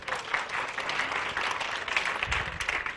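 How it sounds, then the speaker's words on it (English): An audience at an illusionist's presentation gives a round of applause, a moderately loud, even patter of many hands clapping at some distance for a few seconds. "Give a round of applause"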